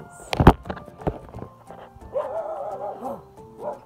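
A dog barks outdoors in the mountains: one sharp, loud bark, then a few softer yips and whines that trail off.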